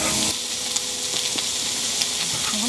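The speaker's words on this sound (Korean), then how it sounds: "고추씨가 너무 튀기는데?" Chili seeds sizzle and spatter loudly in hot oil in a pan during camp cooking, a dense continuous frying hiss with scattered pops up close.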